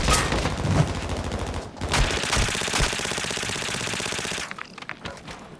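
Automatic gunfire in Call of Duty: Modern Warfare II, dense rapid bursts of loud shots for about four seconds, then a few scattered single shots as the firing tapers off.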